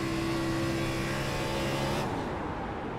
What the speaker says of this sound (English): He is clutching the car, trying to save as much fuel as he possibly can.